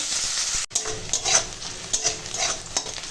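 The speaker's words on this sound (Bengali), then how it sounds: "ওই তেলেই এখন দিয়ে দেবো পেঁয়াজ আর কাঁচা লঙ্কা এটা এখন ভালো করে ভেজে নেবো" Onion and green chilies fry in oil in a pan, soft sizzling broken by a brief cut and several scraping stirs and light utensil knocks, close and uneven.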